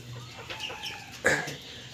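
Local desi hens in their coop give a single short, fairly loud cluck partway through, over a quiet room hum with faint chatter-like bird noise beforehand.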